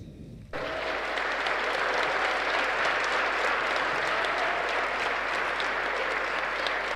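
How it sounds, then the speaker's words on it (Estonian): Audience at a village day concert in Idla, Kohila, applauding steadily, a dense sustained clapping that starts abruptly and holds at an even, fairly loud level throughout. "lihtsalt aplodeerime"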